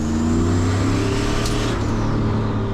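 A turbocharged Z28 Camaro pulls hard from inside the cabin, a steady loud engine drone with a rising whine as it comes into boost, and no talking.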